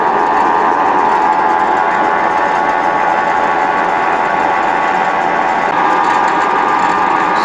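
A can seaming machine runs steadily, sealing an easy-open lid onto a can with a continuous, even mechanical hum and whir that stays loud and unchanging throughout, with no talking.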